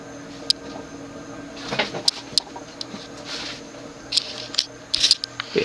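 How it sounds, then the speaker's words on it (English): A 36-inch Century antique ceiling fan, model CF-36, its loose lower canopy without retaining screws vibrating, giving scattered light clicks and rattles over a steady hum. "the lower canopy is kind of vibrating because the original screws weren't included to keep the canopy on"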